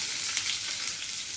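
Finely chopped onion hitting a hot oil tempering with curry leaves and a pinch of asafoetida, for stuffed bitter gourd curry, giving a steady, bright sizzle and frying hiss with no talking.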